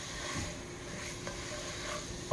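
Sausage sizzles in a pan while a spoon chops and stirs it for Southern-style sausage gravy, a continuous close frying crackle with soft scraping and a sharper clink of spoon on pan near the end.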